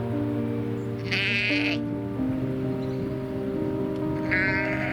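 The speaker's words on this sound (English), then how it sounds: "we spot a sheep in distress." A distressed sheep lying stuck on its back in the Catlins countryside of New Zealand's South Island bleats twice, loud and close, over a steady engine-like hum.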